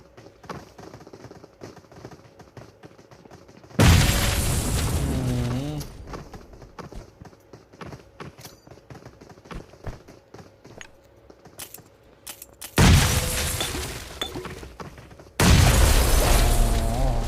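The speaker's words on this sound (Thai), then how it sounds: "เดี๋ยวเรามาลอง เอฟเฟกระเบิดนะ" Loud, broadband blasts of a game explosion effect erupt three times over a quieter background of clicking and low hum.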